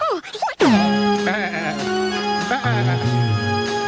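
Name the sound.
sheep bleating sound effect on a radio broadcast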